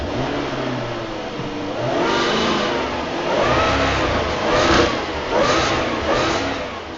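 Car engine starting up, then revving in several rising surges over a steady idle, heard from inside the vehicle at moderate volume with no talk.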